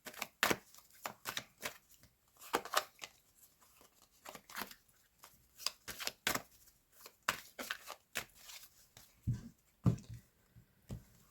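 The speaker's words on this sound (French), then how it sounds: "Je vais remettre d'autres cartes." Tarot cards handled, placed and shuffled in a quiet room, with repeated close, crisp riffling and slapping bursts of paper at an irregular pace throughout.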